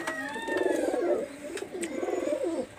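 Pakistani highflyer Teddy Kamagar pigeons coo in two rolling, throaty phrases over nearly three seconds, close and clear with no talking.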